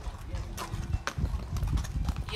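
Hooves of a ridden horse clip-clop along a hiking trail near an old palazzo, a run of irregular, fairly close footfalls with voices talking over them.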